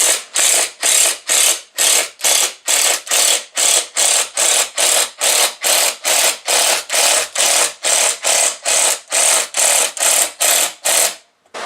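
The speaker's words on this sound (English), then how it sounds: "we can permanently attach it using the screws" Screws being driven with a ratcheting tool into a rustic wooden flower pot, a steady run of about twenty-five loud, close, evenly spaced ratchet clicks with no talking.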